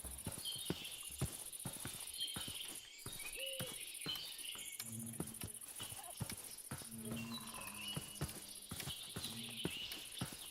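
Horse hooves clip-clop in a steady rhythm of close, distinct footfalls in the Minecraft video game, set against a constant background of chirping crickets.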